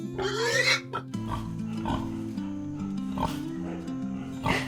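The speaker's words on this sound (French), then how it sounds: "C'est un cochon." A pig grunting and oinking, a few rough snorts and squeals up close, over a bright children's melody and under a speaking voice.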